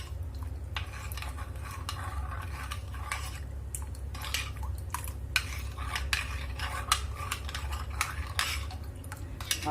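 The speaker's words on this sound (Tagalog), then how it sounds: "Haluin lang ganito lang." A utensil stirs and scrapes fish and ingredients in a metal cooking pot while making sinaing na isda, giving irregular clinks and taps over a steady low background hum, close and moderately quiet, with no talking.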